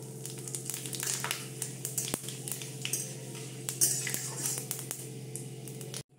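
Whole spices (bay leaf, dried red chilli, cardamom, cloves, cinnamon and panch phoron) fry in ghee in a pan for aloo dum, with a soft sizzle, utensil scrapes and clinks, and a low background hum.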